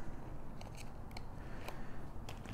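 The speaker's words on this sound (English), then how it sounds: "now I'm just going to take my scissors and cut just right into" Scissors snip through sticker paper in a mini album craft project, several crisp close cuts spaced irregularly over a soft steady background, with no talking.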